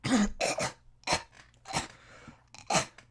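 A man coughs roughly several times in short, harsh bursts separated by brief pauses, close and fairly loud, with throat-clearing rasps in between.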